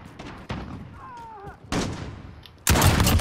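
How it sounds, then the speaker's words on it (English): Several loud booming gunshot blasts go off in an online shooter game, sharp bursts spaced across a few seconds, the last one heaviest, with a brief whistling tone between them. "Who's using a shotgun, Bray?"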